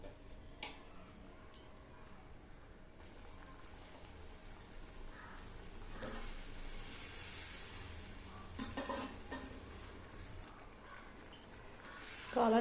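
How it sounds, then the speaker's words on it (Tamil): Mushrooms go into a pan for a South Indian mushroom gravy, giving a soft, steady sizzle with occasional stirring scrapes and light clicks, faint and fairly distant, with no talking over it. "அடுத்தது காளானை சேர்த்துடலாம்."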